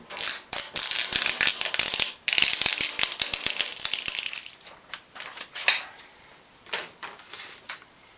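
Application tape crackles and rips in bursts as it is peeled off vinyl hot rod door lettering, crisp tearing and sticky snaps close up, easing into quieter intermittent peeling toward the end.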